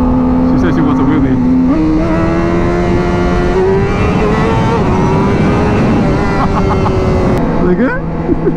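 A very loud motorcycle engine revving hard nearby, its pitch rising and dipping through sustained throttle bursts, with people talking excitedly over it.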